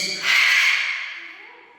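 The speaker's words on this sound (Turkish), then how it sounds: "Karga bağırıyor." A single harsh, drawn-out crow call at a zoo in Macedonia rises and fades over about a second and a half.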